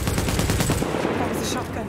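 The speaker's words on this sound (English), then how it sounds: "That was a shotgun." Shotgun fire in the video game Tom Clancy's The Division, loud dense blasts crowding together over a short burst amid constant in-game noise.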